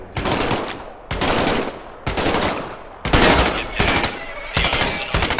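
M1 rifle shots ring out in the Medal of Honor VR video game, five loud, sharp reports spaced about a second apart, each trailing a short decay, with no talking over them.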